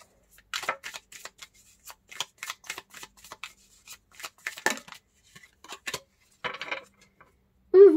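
Tarot cards are shuffled and drawn close up in quick, crisp flicks and slaps. The cards riffle in an uneven rhythm, with a short tonal sound at the very end.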